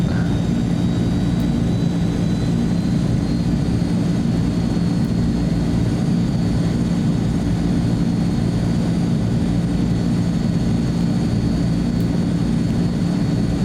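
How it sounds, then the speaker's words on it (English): Azurpoly C-160 transport plane engines warming up in Microsoft Flight Simulator 2024, a steady, loud, unbroken turbine drone holding level throughout with no voices. "while those engines are warming up"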